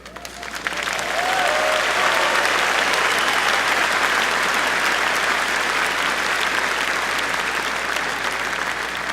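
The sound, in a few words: audience applause at commencement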